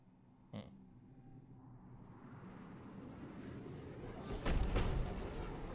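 A Cerberus cannon fires on Tuchanka in Mass Effect 3. A brief thump comes early, then a rumbling swell builds to a heavy booming blast near the end, with no talk.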